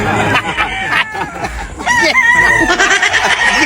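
A rooster crows loudly and up close on a farm, with chickens clucking around it and people chattering in the background.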